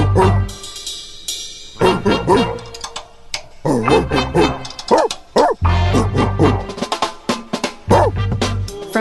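Dog barks in a Freakonomics Radio intro, loud repeated bow-wow barks and yips in uneven bursts, close and prominent with short gaps between.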